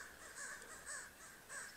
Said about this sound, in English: Can you hear those crows?